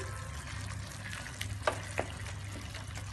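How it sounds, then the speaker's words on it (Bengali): Sev tamatar gravy with garam masala sizzles in a pan, with a few soft scrapes and clicks of stirring over a low, steady frying hiss. "ভালো করে নেড়ে দিচ্ছি।"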